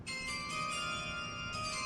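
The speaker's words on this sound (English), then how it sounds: "Go ahead, play your chime." A soft, sustained bell-like chime tone rings out over a mock NFL draft broadcast, with sustained harmonic tones and gentle repeated swells, alone without talk.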